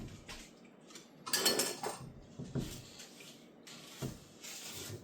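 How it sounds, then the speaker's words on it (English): Wet ingredients with brown sugar are whisked in a bowl, a faint irregular clinking and scraping of the whisk against the bowl that comes in short bursts, close and without talk. "Whisk this"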